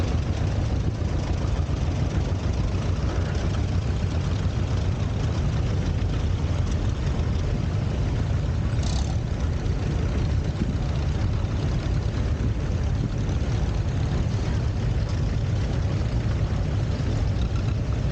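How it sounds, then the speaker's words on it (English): A 1949 John Deere Model M tractor rated at 20 horsepower runs with a steady, loud low engine drone that holds throughout, with no break in the sound. "Murray Smear is driving his 1949 John Deere Model M, rated at 20 horsepower."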